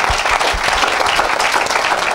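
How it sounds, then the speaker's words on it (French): A church congregation applauds during a service, with dense, continuous clapping from many hands filling the room at close range, loud and sustained throughout. "Alléluia, acclamez Jésus-Christ."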